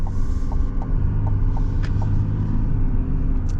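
A 2024 Ram 1500 Laramie diesel pickup accelerates, its engine a steady, loud low rumble heard from inside the cab with a faint rhythmic ticking, no voices.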